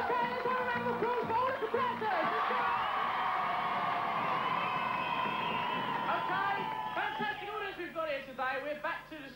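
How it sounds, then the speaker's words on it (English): A studio crowd at a 1985 BMX show cheers and applauds, with excited whoops and children's shouts riding over a dense clapping wash that fades into laughter and chatter. "let's have a round of applause"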